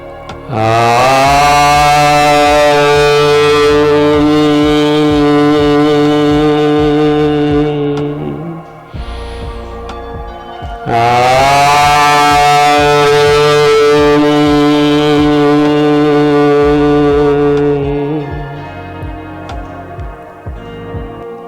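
Two long, sustained low chants of Om with rich buzzing overtones, each held about eight seconds, separated by a brief pause, loud and steady.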